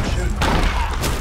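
A sharp cannon boom in Sea of Thieves bursts out at the start, then a second blast follows about a second later amid noisy game sounds, close and loud.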